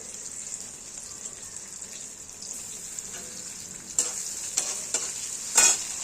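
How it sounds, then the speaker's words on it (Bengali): Chopped onion hits hot fish-frying oil seasoned with black cumin and sizzles steadily up close, with a few louder stirring knocks near the end. "দিয়ে পেঁয়াজটাকে আমরা লাল করে ভেজে নেব।"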